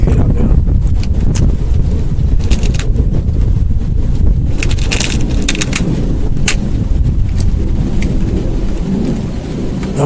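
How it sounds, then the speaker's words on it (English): Strong wind gusts roar outdoors during an air-rifle shooting session, mixed with heavy rain and rumbling thunder, with sharp crackles scattered through a constant loud wash. "the wind's kicking up now"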